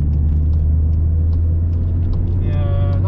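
Car engine and exhaust at low revs on the La Ferté-Gaucher race track, a loud, steady deep drone held throughout with a faint higher whine near the end and voices over it.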